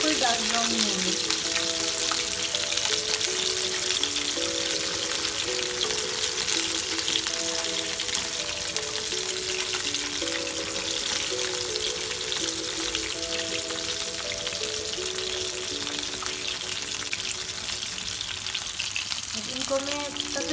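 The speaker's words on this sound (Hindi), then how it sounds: "इनको मैं तकरीबन 5-6 मिनट जो है वो इसी तरह से मैं फ्राई करूँगी मीडियम लो पे" Pasta-coated chicken deep fries in oil on medium-low heat, giving a steady, close bubbling sizzle that runs unbroken throughout while someone talks over it.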